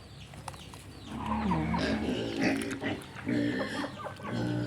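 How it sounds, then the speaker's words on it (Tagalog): A mother pig eating bran feed grunts and snorts close by in short, repeated bursts while chewing and rooting at her food. "kay Mommy Pig, nilagyan namin siya ng darak para hindi siya masyadong tumaba"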